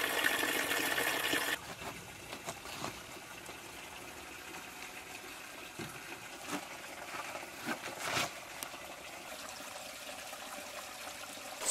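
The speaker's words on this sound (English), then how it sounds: "down here is our source of the spring, lovely clean drinking spring water" Spring water trickles softly at its source on an abandoned Portuguese homestead, a faint, steady wash of flowing water with a few small splashes and no talk.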